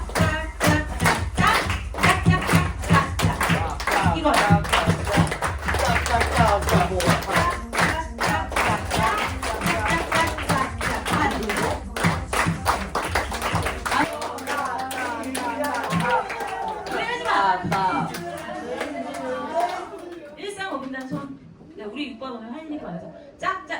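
A school music class claps hands together in a steady repeated rhythm. The loud, dense claps run without a break for about fifteen seconds, then thin out and scatter, with a teacher talking over them.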